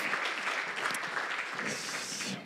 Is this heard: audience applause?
yes